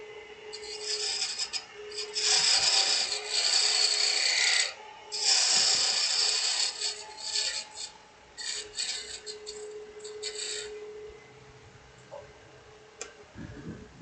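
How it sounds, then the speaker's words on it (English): Parting tool on a wood lathe cuts a tenon into solid wood, giving a bright, continuous scraping rasp in long bursts with short pauses, close and fairly loud, fading to quieter intermittent scratching near the end. "Now I'm just going to use my parting tool and create a tenon here."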